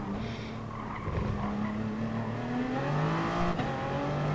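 Race cars in Gran Turismo Sport howl as one overtakes, with steady engine tones climbing in pitch and some tire squeal over a continuous whine.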